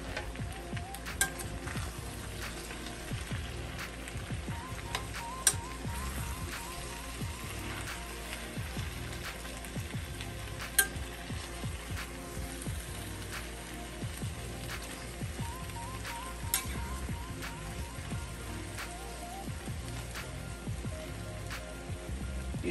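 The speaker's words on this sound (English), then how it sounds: "now I am about to add in my eggs just so that the eggs can get a little bit of this flavor that's down in the bottom of this pan" Eggs fry in a pan of home fries and vegetables, a steady close sizzle and crackle with scattered pops and occasional soft clinks of a utensil against the pan.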